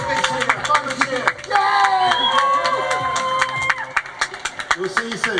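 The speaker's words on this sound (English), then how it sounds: "Let's have a big cheer, a final cheer." An audience at a live Talkaoke show cheering and clapping, a burst of loud close whoops and scattered claps mixed with overlapping voices.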